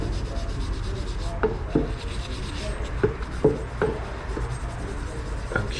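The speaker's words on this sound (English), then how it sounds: "continue to polish in an effort to remove any and all of the buildup that is currently present, particularly around the base" Rust and dirt buildup being polished off around a base with lube, heard as soft, steady rubbing strokes at close range with a few sharper scraping clicks scattered through.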